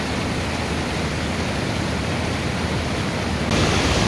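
The Langtang river in Nepal rushes beneath a trekking bridge as a loud, steady roar of white water, broadband and unbroken, swelling slightly louder near the end.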